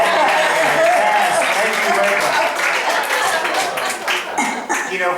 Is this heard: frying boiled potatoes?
no